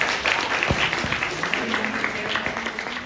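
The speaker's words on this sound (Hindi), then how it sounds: "एक बार फिर जोरदार तालियां बजाइए आपके लिए" A conference audience at a holistic health event in Rishikesh applauds loudly, a sustained roar of many hands clapping at an even, full level with no break.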